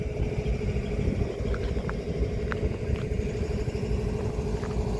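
A 4,400 horsepower locomotive engine rumbles in a deep, steady drone, loud and close, holding constant with no talk over it.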